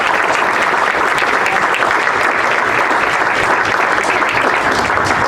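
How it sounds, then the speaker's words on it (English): A loud, dense round of audience applause at a live pitch event on Cape Cod, continuous, even clapping from many hands sustained throughout with no speech. "So can I get a big round of applause?"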